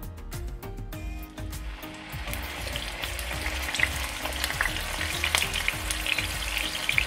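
A vegetarian patty sizzles and fries in a pan, with a steady crackling hiss and a few clicks and scrapes from the pan early on, and no voices.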